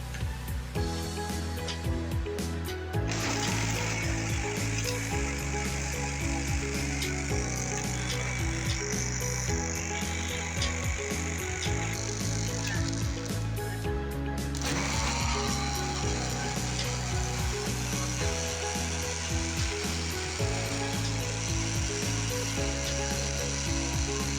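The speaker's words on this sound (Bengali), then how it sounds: "ব্লেন্ডার জাগে ব্লেন্ড করে নেব।" A blender jar whirs and churns as it blends lassi made with thickened milk and ice, giving a loud, continuous grinding drone with a rattling texture and shifts in pitch.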